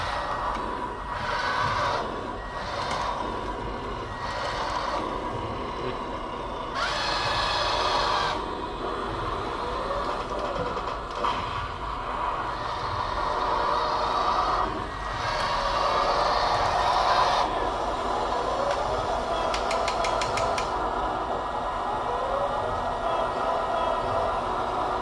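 TongDe Churchill RC model tank driving around up close: a whirring electric motor and clattering gears in stop-start bursts, with brief higher-pitched surges and pauses between moves.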